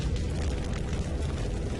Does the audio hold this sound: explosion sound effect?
yes